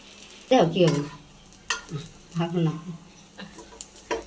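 Rice-flour pitha cakes frying on an LP gas stove, giving a soft sizzle with stirring and scraping sounds at close range, while voices talk over them throughout.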